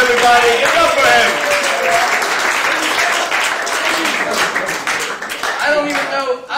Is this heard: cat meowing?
no